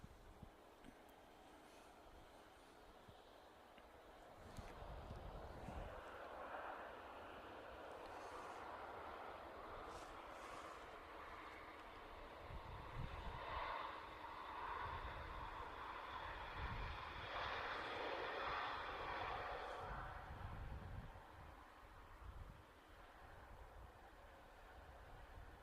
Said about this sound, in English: There's a Dreamliner.